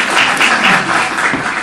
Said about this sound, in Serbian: aplauz za našu dragu Eminu.